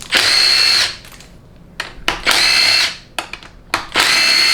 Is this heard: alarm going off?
no